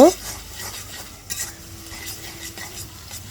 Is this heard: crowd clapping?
no